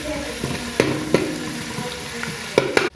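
Onion with crushed ginger and garlic fries in a pan, a constant close sizzle punctuated by several sharp spatula clicks against the metal at irregular intervals, with no one talking.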